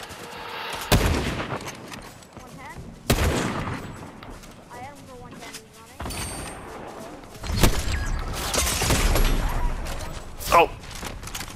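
Fortnite gunfire in a zero-build duos match, with sharp bursts of shots and rapid volleys of fire breaking out repeatedly, some loud and close, others farther off, while players talk over the action.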